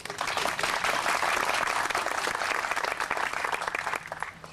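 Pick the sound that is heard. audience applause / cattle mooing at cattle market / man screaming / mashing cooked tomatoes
audience applause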